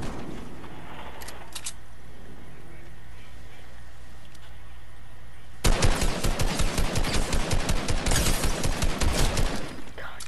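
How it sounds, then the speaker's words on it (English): Rapid automatic gunfire in a building-and-shooting video game, a dense burst of loud shots that erupts partway through and keeps hammering to the end after a quieter stretch of game ambience. "He shot through my build!"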